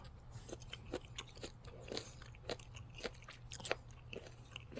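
Australian greenlip abalone being chewed: close, steady crunching and wet biting with a run of sharp crunches in a quiet room, no talking.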